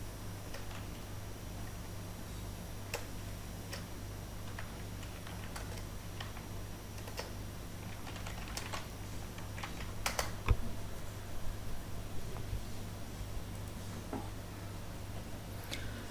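Scattered keystrokes on a computer keyboard as a Python command is typed at a command prompt, irregular and fairly faint over a steady low hum, with no speech.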